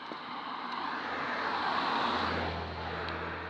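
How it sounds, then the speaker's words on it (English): A car drives past outdoors, a broad whooshing road noise that swells toward the middle and slowly fades, heard at moderate distance with no talk. "I shall wait till this car goes past first."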